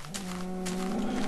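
A single Minecraft cow lets out a short, low, clear moo at moderate volume against a quiet background.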